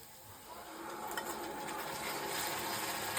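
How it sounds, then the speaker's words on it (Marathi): Tomato puree sautéing in a pan over ginger-garlic paste for egg curry gives a steady, close sizzle with faint stirring, slowly swelling in loudness toward the end. "टोमॅटोची प्युरी आता मस्त परतून घेतलेली आहे"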